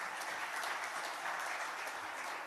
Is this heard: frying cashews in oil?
no